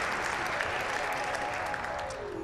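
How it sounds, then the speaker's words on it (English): Audience applause at a family Yule service, a steady dense wash of clapping from a crowd that carries evenly through the short stretch and fades slightly at the end. "Let us give our applause to La Befana."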